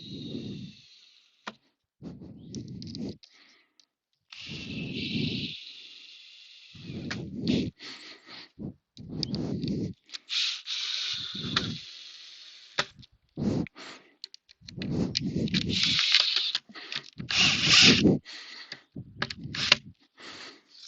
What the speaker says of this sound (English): we align the top and the bottom with the front panel, and we start putting in the screws